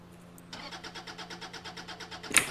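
A TVS XL moped pulls away in the driving game Drive Beyond Horizons, its small engine catching and then putting along in a steady, even pulse, ending in a brief sharper burst.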